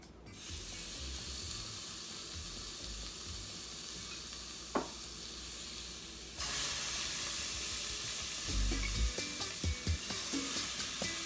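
Cuban pork chunks cooking in a pan, a steady hissing sizzle that swells louder midway, with a few clattering utensil knocks near the end and no talk.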